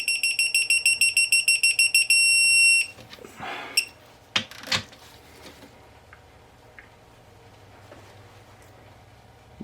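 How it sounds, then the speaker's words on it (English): A digital torque wrench beeps rapidly while bolts are tightened on the crankshaft main caps of a Chevy Colorado 3.5L I5, with a dozen quick pulses merging into a long tone, followed by clinks of tools on metal. "have to hear all the beeping for every single bolt"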